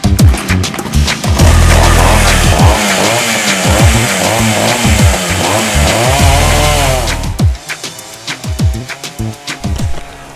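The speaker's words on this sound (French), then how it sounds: "les bûches bougent quand la chaîne de la tronçonneuse attaque le bois" A chainsaw engine roars steadily while cutting logs, then drops to a choppier idle with revving bursts; a voice speaks briefly in French near the end.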